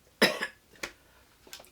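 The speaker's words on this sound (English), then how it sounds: "So you have to excuse me if I'm coughing and kind of choking on stuff." A woman coughs once sharply and close, followed by two smaller throat-clearing coughs spaced apart, with quiet room tone between.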